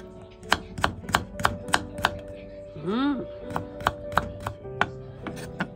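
A knife chops small carrots for kimchi on a board in sharp, evenly spaced thuds, about a dozen close cuts, with a brief vocal sound partway through.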